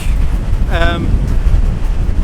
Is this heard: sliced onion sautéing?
no